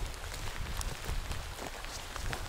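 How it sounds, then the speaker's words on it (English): Steady rain patters on surfaces around a wild camp in Glen Rosa on the Isle of Arran, Scotland, a dense, continuous hiss of drops heard close by with no talking. "as you can see we're leaving and the rain's on."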